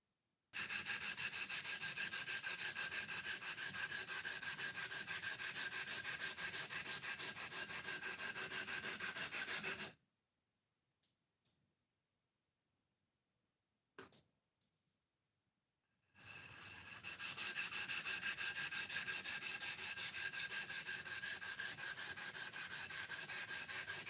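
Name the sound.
flattening a sharpening stone by rubbing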